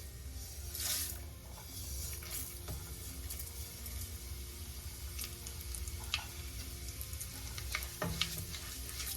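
Urad dal roasts in a pan with already crackled mustard seeds, giving a soft, steady sizzle broken by small ticks, pops and the scrape of stirring, fairly quiet and close.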